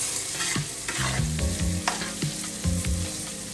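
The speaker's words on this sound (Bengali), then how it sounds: "এবার দেখো মশলাটা কষেই গেছে, তেল ছেড়ে দিয়েছে।" Spice paste fries in oil with hilsa fish for an eggplant curry. A loud, close sizzle runs throughout while a utensil stirs and scrapes the pan in repeated strokes.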